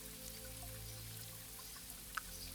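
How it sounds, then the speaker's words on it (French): Soft, steady rain falling as a faint, even hiss with a low background rumble and one small droplet tick near the end. "C'est très apaisant la pluie lorsque l'on est bien installé dans son lit"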